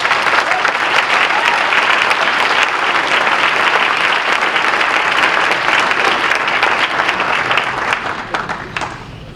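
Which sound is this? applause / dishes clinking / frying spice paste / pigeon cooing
applause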